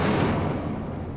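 Incendio fire spell cast in Hogwarts Legacy, a short loud burst of fiery rushing noise that fades over a second.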